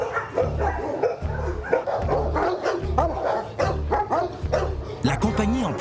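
Many dogs bark at once at KK Security's canine center in Nairobi, which holds about 380 dogs, a loud, dense chorus of overlapping barks, yips and whimpers that never lets up.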